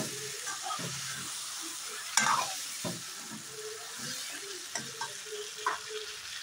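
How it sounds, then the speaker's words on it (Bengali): Chicken pieces frying and being stirred through spice paste in oil, a steady close sizzle with scraping stir strokes and a sharper clatter of the utensil now and then. "দেখো মশলাটা কষানো হচ্ছে"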